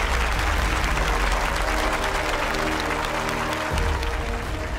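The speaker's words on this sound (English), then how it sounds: "A huge round of applause for Aidan." An audience at a children's academic competition applauds a runner-up receiving a medal, a loud, dense burst of clapping that holds steady throughout and is joined briefly by a low tone near the end.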